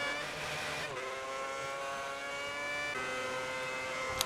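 A Formula One race car in the video game F1 2010 drives slowly back to the pits, its engine giving a steady, fairly loud harmonic drone that shifts pitch slightly a couple of times, with no talk.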